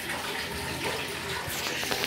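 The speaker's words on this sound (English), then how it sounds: "Yeah, that bath is running." Water gushes steadily from a tap into a bathtub as it fills, a continuous broad splashing rush heard close in a bathroom.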